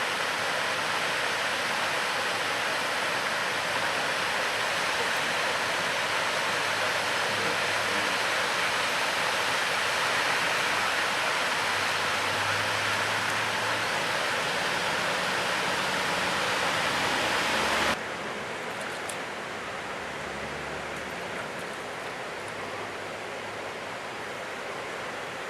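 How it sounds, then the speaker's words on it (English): Water of the East Alligator River rushing over the concrete ford of Cahills Crossing in Kakadu, a steady loud broadband roar that holds constant, then drops slightly in level near the end. "This is Cahills Crossing. Across the Westgale Alligator River."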